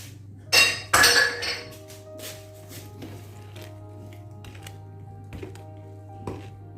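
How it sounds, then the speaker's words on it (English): Carrot juice stirred into a herbal whitening skin scrub mixture in a container, opening with two loud clinks followed by quieter scraping and occasional light taps over a steady low hum. "I'm just going to stir it into it and come back"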